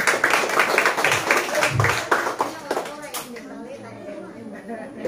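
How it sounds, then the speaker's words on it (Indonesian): Church congregation clapping hands at a Christmas gathering of the Rayon Sion members, a burst of quick, close clapping with voices and chatter mixed in, then fading into talk as the applause dies away after about three seconds. "Kita tepuk tangan dulu."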